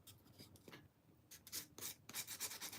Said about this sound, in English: Now we're sanding it off.